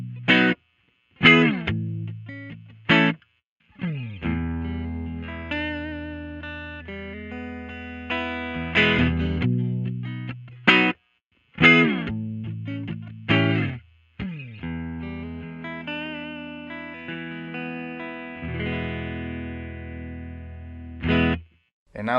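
Dry, distorted electric guitar plays chords and single notes in short phrases, each stopping abruptly into near silence between them.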